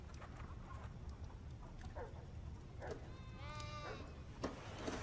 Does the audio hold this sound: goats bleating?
yes